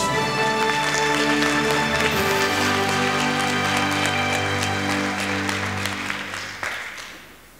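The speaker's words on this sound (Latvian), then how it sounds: "Un, protams, jūsu aplausus." Audience applause at a Latvian family-doctor award ceremony: loud, sustained clapping from a crowd over background music, tapering off at the end.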